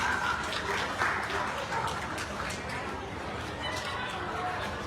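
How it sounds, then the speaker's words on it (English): Applause from the audience at a dog show for Toy Group winners fills the hall, a moderate, continuous patter of clapping mixed with crowd murmur. "Please give a round of applause for your winners"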